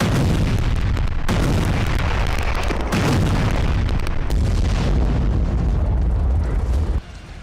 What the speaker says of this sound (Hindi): महज 35 मिनट में कुल 30 धमाके।